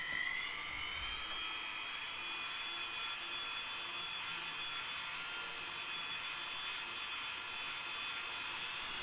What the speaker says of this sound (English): To then polish up all of the texture, I'm going to use my radial discs